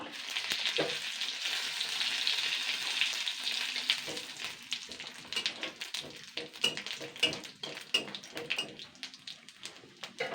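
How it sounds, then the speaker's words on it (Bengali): Whole cumin seeds and a dried red chilli hit the hot oil left in a wok after frying fish roe. A bright, steady sizzle follows, broken by scattered taps and crackles of stirring. "যে কড়াইতে মাছের ডিম ভেজেছিলাম সেই তেলেই আমি আস্ত জিরে দিচ্ছি ফোড়নের জন্য"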